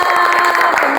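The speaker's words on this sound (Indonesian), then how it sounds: "Tepuk tangannya." Fourth-grade primary school children clapping their hands together in a classroom, a loud, dense burst of rapid applause that fills the whole short moment.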